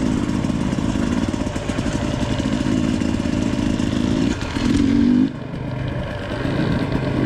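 A motorcycle engine drones steadily on desert trails in Arizona, with a brief rise in revs near the end before settling back to a lower, rougher running note.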